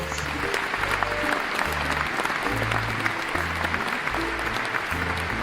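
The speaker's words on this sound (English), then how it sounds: "please give a big round of applause for the cast of Two Noble Kinsmen" Audience applause for the cast of a theatre production of The Two Noble Kinsmen: steady, dense clapping from a full house, loud and sustained throughout, with music playing underneath.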